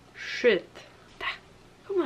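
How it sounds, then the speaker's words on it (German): A pet dog gives two short whimpering yips in a quiet room, sharp and close, separated by a pause, while a person speaks briefly around them. "das ist mein Hund."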